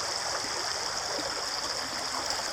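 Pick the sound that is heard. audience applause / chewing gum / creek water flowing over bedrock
creek water flowing over bedrock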